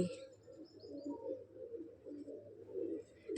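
Low, soft cooing of pigeons, a steady murmuring burble close by with a few faint chirps.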